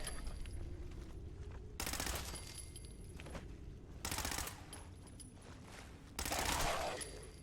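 Gunfire in the Fallout 4 video game comes as three loud bursts of rapid shots separated by pauses over a low rumbling background.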